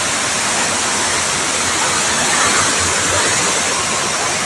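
Aberdeen Falls in Sri Lanka, fed by seven streams joining above the drop, thunders in a loud, constant roar of falling water, close and unbroken throughout.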